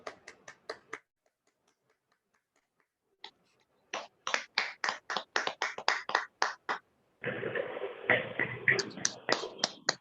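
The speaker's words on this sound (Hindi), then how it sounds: "आज के ध्यान के लिए हम जोरदार ताली बजाएंगे" A few sharp claps open the group meditation session, then after a pause a rapid run of loud, distinct hand claps, followed by a dense burst of sustained clapping from many people.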